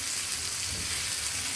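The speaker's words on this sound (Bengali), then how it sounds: "এবার এগুলো একসঙ্গে সবগুলো মিশিয়ে ভেজে নেব।" Ginger, garlic, onion and turmeric frying together in soybean oil, giving a steady, even sizzle that runs close and unbroken for the whole moment with no voices over it.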